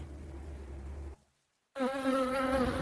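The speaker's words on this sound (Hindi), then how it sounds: "ये शहर घरदाया है, मगर यहाँ मक्खियों का राज है।" Flies buzz close by in a Sahara town, a droning whine that stops briefly and then returns louder and higher-pitched.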